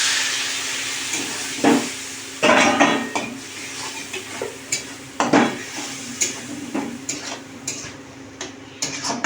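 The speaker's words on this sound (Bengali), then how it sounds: "একদিকে মা মশলা কষছে" Ground spices (chili, turmeric, cumin and coriander) stir-fried in a pan with a little water, a utensil scraping and clanking against the metal in irregular strokes over a soft steady sizzle, close and fairly loud.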